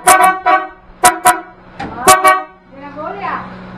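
A new Bighorn vehicle horn blares in short honks, two pairs and then a longer blast, loud and close, with people talking and a voice in between.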